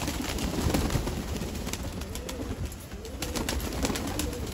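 Soft, low pigeon coos murmur under steady, broadband outdoor noise on a Delhi rooftop, faint and somewhat distant, with no voices.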